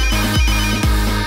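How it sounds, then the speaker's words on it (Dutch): A telephone rings with a steady electronic ringtone, three bright pulses in quick rhythm, loud and close, with no voices over it. "Luc, is Gerard aan de telefoon voor jou?"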